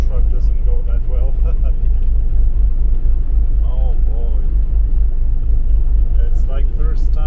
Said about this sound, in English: Going uphill, so the truck doesn't go that well.